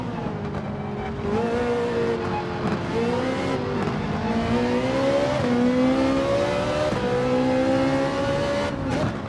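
Race car engines in Gran Turismo 7 drone loudly and steadily together, their pitch climbing and dipping through gear changes, with several cars running close alongside one another.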